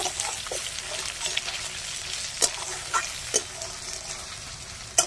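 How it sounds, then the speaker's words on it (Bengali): Mung dal fries in a pan with a steady close hiss, broken by a few sharp clicks and scrapes of a stirring utensil; no one speaks. "মুগের ডাল দিয়ে দিলাম। ডালটা একটুখানি ভেজে নেব।"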